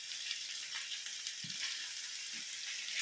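Chicken pieces frying in a dry pan with no oil give a steady, fairly loud hiss and crackle throughout, with a couple of soft low bumps as the food is moved.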